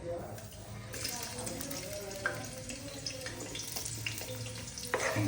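Chopped onions hit hot oil in a pan and fry with a steady, close sizzle and crackle, while someone talks over the cooking.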